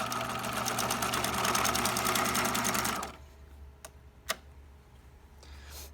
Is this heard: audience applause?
no